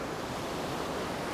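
Water rushes steadily through a deep river confluence between stones, a dense, continuous broadband roar with no breaks, loud and close, with no voices.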